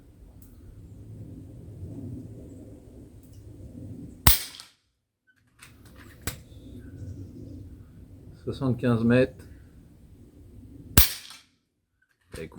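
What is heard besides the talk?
FX Leopard Sniper .22 air rifle shots with slugs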